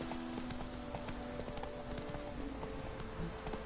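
A horse's hooves clip-clop in a steady rapid rhythm as it runs in The Witcher 3 video game, close and continuous with in-game ambience underneath.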